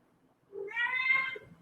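A pregnant rescued female cat gives one drawn-out, fairly loud meow after a soft short chirp, close to the listener in a quiet room with no voices.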